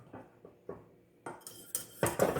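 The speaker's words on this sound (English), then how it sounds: "I just keep stirring it because I don't want it to stick to the pan" Custard thickening in a pan gives off light scraping and clinking as a spoon stirs it, with soft taps at first and then louder, busier scrapes and clatter toward the end, close by and with no talk.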